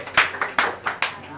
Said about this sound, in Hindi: इसके लिए ताली बजा दो, इसकी ताली बजा